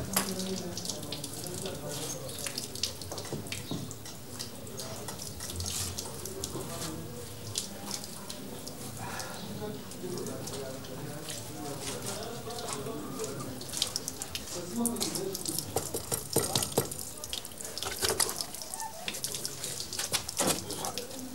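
Water runs steadily from a tap into a sink, with splashing and clatter as someone washes, close and continuous throughout.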